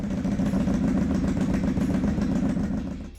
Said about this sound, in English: The SRV 300 features a 296cc liquid-cooled V-twin engine.